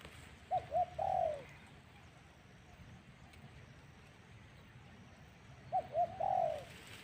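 A ground bird calls in the open, giving two short bursts of coos and hooting notes a few seconds apart, clear but moderately distant over a quiet background hum.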